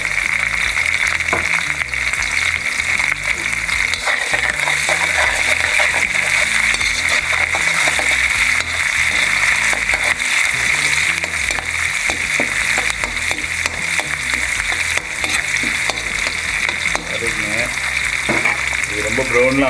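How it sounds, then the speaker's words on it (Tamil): Mustard seeds, urad dal and curry leaves frying in hot oil, a loud steady sizzle and crackle that holds throughout with faint utensil clinks. "கடுகு உளுத்தம்பருப்பு நான் ஒரு ஸ்பூன் போட்டுக்கிறேன், ஒரு கொத்து கருவேப்பிலை"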